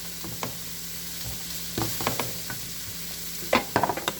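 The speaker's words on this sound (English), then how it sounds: "I'm going to give that a good stir." Onions fry in a pot for homemade chili while being stirred, a soft sizzle underneath intermittent scraping and clattering strokes of the spoon, close and fairly quiet.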